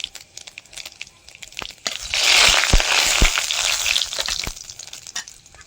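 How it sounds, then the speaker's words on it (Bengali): Bay leaf and five-spice tossed into hot oil in a kadai, a burst of loud crackling sizzle swelling in the middle of the clip, framed by scattered clicks and clatter of kitchen handling, close up. "তেলের মধ্যে তেজপাতা আর 5 ফোড়ন দিয়ে দেবো"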